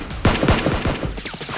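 Nerf guns fire in quick succession during a staged Nerf war fight between robbers and SWAT players, a close, loud burst of several sharp pops with no talking.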